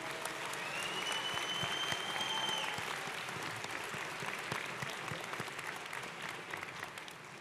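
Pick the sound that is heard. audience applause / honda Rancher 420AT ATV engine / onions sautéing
audience applause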